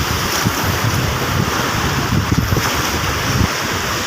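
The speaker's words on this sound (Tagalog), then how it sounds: "dahan-dahan, malakas ang agos" Strong river current rushing in a steady, loud, broadband roar with heavy wind buffeting the microphone, close and continuous with no talk.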